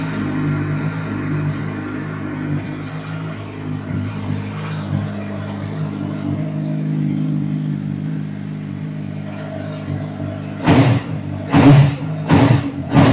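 A CF Moto Boom 500 SR motorcycle on its stock exhaust idles nearby with a rumbling, uneven note, then snaps through three or four quick, sharp throttle blips near the end.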